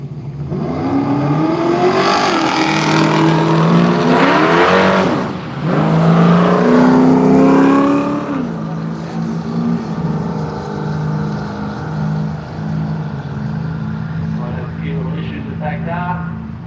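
A yellow Camaro drag racing car roars and revs down the strip at Willowbank Raceway, Australia, loud and close at first, then fading. An announcer talks over it throughout.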